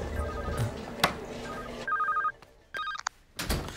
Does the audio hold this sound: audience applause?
no